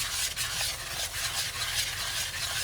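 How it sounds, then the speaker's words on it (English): A cacio e pepe sauce of melted cheese and pepper is stirred steadily around a pan, giving a continuous close scraping swish with a faint sizzle underneath and no voices. "Just you stir, stir, stir, so all that cheese is melted nicely"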